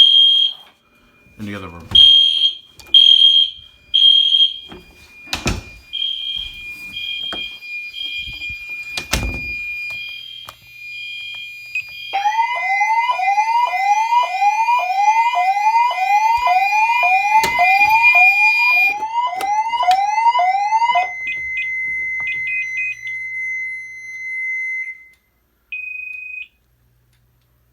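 Fire alarm and security system set off from a manual pull station during a system test: a run of loud repeated electronic beeps and tones, then a long stretch of fast rising whoops, ending in a steady tone. Brief talk is heard early on.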